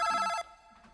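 A telephone ringtone chimes for an incoming call to a late-night radio show, a bright, loud electronic bell trill that stops abruptly, followed by near silence and faint studio room tone.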